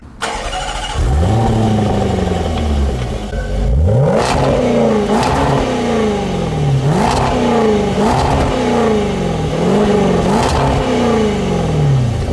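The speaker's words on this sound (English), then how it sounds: "with this big V8, this thing sounds pretty good with the sport exhaust" A 2020 Range Rover Velar SVAutobiography V8 starts and revs repeatedly, each blip rising and falling through a throaty sport exhaust, loud and close with steady idling between.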